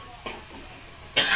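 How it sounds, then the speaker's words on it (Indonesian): Two short coughs, the second louder and harsher, over a faint background hiss of snails frying in a pan. "Dengan baunya ini akhirnya saya batuk."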